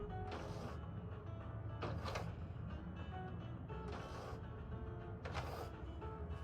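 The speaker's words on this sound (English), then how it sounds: "It's the sound of a door opening for sure" A door opening in the video game Control: a series of mechanical creaks and clunks recurring about four times at moderate volume over a low ambient hum, with no talking.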